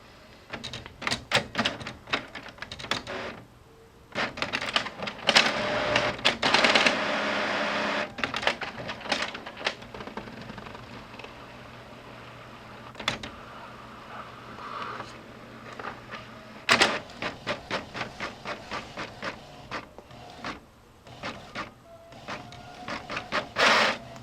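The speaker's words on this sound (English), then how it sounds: "Print here and just give it a minute." An inkjet-style printer runs a job printing waterslide decals onto decal paper, its carriage whirring and clicking in bursts with short pauses, close and fairly loud with no talk over it.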